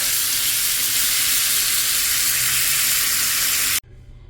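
Bacon and sausage sizzle steadily in a pan on a stovetop, a loud, dense frying hiss that holds for nearly four seconds before cutting off abruptly to near quiet.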